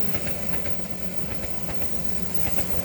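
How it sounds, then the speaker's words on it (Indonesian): Argo Semeru passenger train, running from Gambir toward Surabaya Gubeng, rolls past nearby at Tumiyang, Banyumas, with a steady loud rumble and repeated clickety-clack of wheels over rail joints throughout. "Argo Semeru dari stasiun Gambir tujuan akhir stasiun Surabaya Gubeng."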